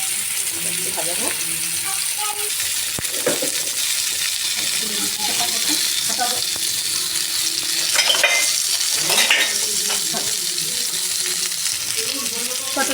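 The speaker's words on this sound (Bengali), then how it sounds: "পটলগুলো ভেজে নেব" Salted, turmeric-coated pointed gourd (potol) sizzles steadily in oil. A spatula clinks and scrapes against the pan from time to time, and the frying swells louder for a few seconds near the end.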